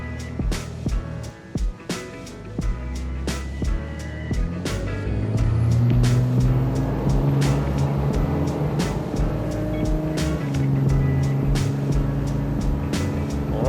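A heavy 2007 Cummins diesel pickup truck with a stock tune accelerates hard, its engine droning and rising in pitch through the gears, with brief gaps at shifts before a sustained, loud run.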